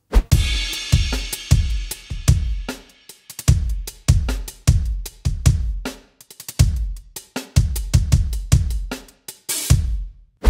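An electronic drum kit plays a busy groove of kick, snare and cymbals, with a short, woody room ambience on each hit; no talking.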